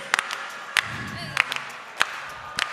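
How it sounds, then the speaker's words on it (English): An audience claps in rhythm along to a song, sharp spaced claps landing about every half second over a background of singing and voices. "All right, let's do some clapping, okay?"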